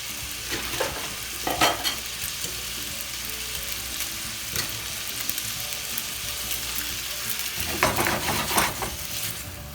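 Cold bolognese spaghetti fries and is stirred in a hot frying pan, a loud steady sizzle broken by several scraping stirring bursts, close up with no talking.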